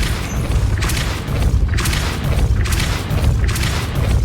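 Depulso spells cast in Hogwarts Legacy land as a run of heavy booming blasts, each a whooshing thump repeating about once a second, loud and close with no talk.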